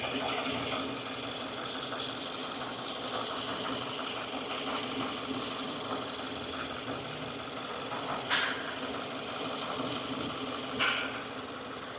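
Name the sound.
2015 Subaru Forester idling with a possible bearing noise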